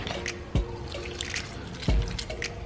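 Snails being washed one by one in water to strip off their slime, with continuous close sloshing and rubbing plus two heavier splashes, and no speech.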